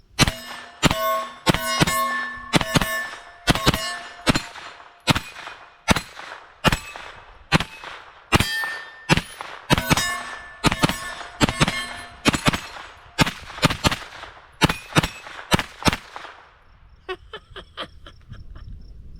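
A 9mm pistol-caliber carbine with a Mean Arms bearing-delay upper fires from a 5.56 P-mag converted to 9mm, giving about two dozen loud, sharp shots with metallic ringing, mostly in quick pairs and bursts, ending in a brief mechanical clatter.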